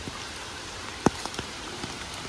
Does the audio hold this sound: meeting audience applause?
no